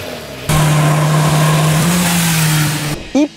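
A BMW S1000R inline-four motorcycle engine revving, a loud close high-pitched snarl that holds a sustained rev for over two seconds, then cuts off, followed by a brief rising blip.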